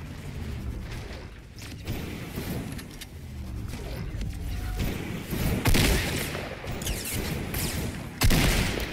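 Close-quarters Fortnite gunfire: scattered sharp shots and short bursts ring out over a busy game background, with two louder blasts standing out near the end.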